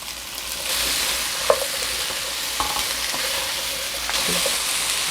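Diced potato and onion stir-fry for homemade jjajang, giving a loud, continuous sizzle. A few sharp clacks from a utensil scraping the pan break through the sizzle.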